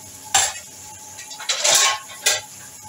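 Metal clanks of a lid and pan while egg bhurji cooks: three separate clattering knocks, the middle one longer and scraping, fairly close over quiet room tone.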